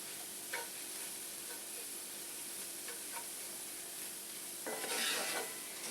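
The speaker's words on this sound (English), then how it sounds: "you want to keep stirring so it doesn't burn" Flour stirred into fat in a pan for a chicken pot pie roux makes a faint, soft scraping and gentle sizzle, with a few light strokes and a brief louder scrape toward the end.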